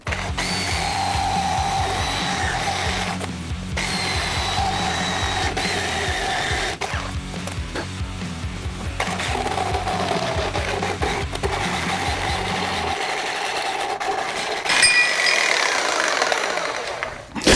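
A power saw cuts off a big aluminum mount tab on an F100 during an electric power steering swap from a Crown Vic, buzzing steadily for most of the stretch with brief pauses, near and loud.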